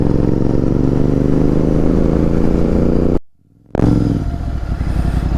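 A GT motorcycle cruising on a highway between Bengaluru and Raichur near the Bagepalli toll, with a loud, steady engine and wind roar up close, broken by a brief dropout before resuming.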